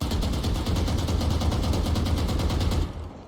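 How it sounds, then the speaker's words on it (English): A rapid burst of automatic gunfire in Valorant, fired without pulling down, rattles on steadily for about three seconds and then stops. "I'll fire and pull down"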